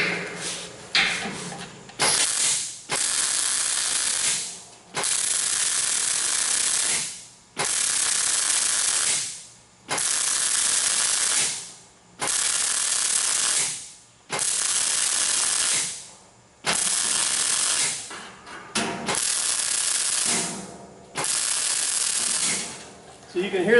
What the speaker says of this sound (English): So you can hear the metal on the tank starting to pop a little bit as I'm welding.